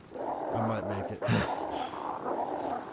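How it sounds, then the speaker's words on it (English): Wild dogs snarl and growl in an attack on the player in the survival video game The Long Dark, a couple of short guttural bursts close up over a windy background. "Get off me, dogs."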